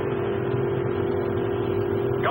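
Steady mid-pitched engine hum of a spaceship starting up in a 1960 space film, a constant droning tone held throughout with a faint rising whine at the very end.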